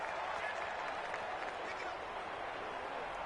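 A stadium crowd in Madden 20 roars steadily, a dense, even wash of cheering and clapping that holds at a moderate level throughout.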